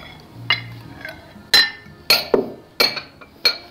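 Metal cutlery clinks sharply against a plate as rice is served at a Thai restaurant in Chippenham, Wiltshire: five separate, crisp strikes spaced unevenly over a few seconds, close and clear.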